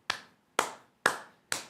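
A slow clap: four single, crisp hand claps spaced evenly about half a second apart, each ringing out briefly before the next, heard alone and close.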